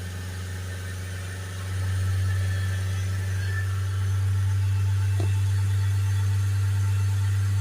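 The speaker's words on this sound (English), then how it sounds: "We'll accelerate it up to 3000 RPM again." Vauxhall Vivaro van diesel engine rising from idle to a steady 3000 RPM, a loud, close, low droning hum that steps up in pitch and volume and then holds, with no talk.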